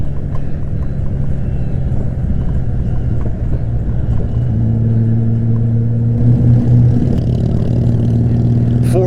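A Honda Goldwing 1500 motorcycle rides through winding twisty roads, its engine a steady low rumble with shifting tonal drones as revs change, mixed with constant wind buffeting at the microphone.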